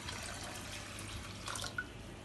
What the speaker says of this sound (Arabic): عليهم 4 كوبايات مية بنفس المقدار